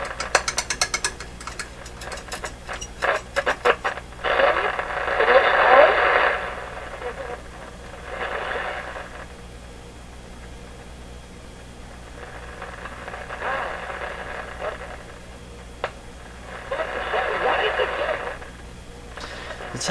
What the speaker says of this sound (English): as the signal comes in, it's cracking its way through cutoff. It's popping its way